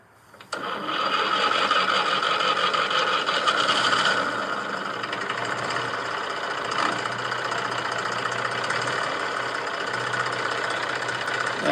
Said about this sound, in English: That's the Mac truck, the good old Mac truck.